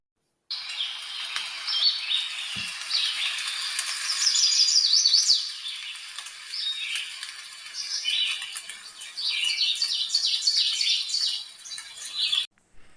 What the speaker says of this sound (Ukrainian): як співають птахи, як шурхотить листя, як шумить вітерець